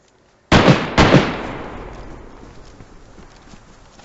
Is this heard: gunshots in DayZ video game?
yes